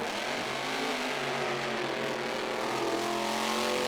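Monster Jam trucks Gravedigger the Legend and El Toro Loco race in a stadium championship final in Las Vegas, their engines producing a continuous loud roar with rising revving tones over a noisy crowd backdrop.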